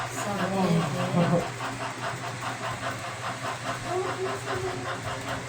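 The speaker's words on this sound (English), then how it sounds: "This train is so fast." Model train running around a layout in a home garage, a continuous rhythmic rolling clatter with mechanical hum, close by, while people talk over it.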